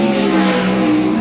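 Pro Sprint Car race cars accelerating on a qualifying run, a loud, steady engine roar with sustained harmonic drone, close and continuous throughout.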